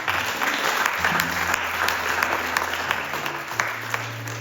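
A church congregation at a Sunday service claps together in praise of the Lord, steady dense applause filling the room from start to finish with a low musical drone underneath.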